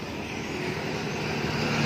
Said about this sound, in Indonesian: di sini gua udah punya Aerox menggunakan knalpot AHM. Kita cek dulu dari jauh.